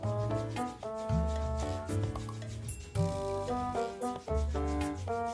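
A nail file rubs steadily against nails during a self-pedicure, giving faint, quiet strokes with tonal background music running underneath.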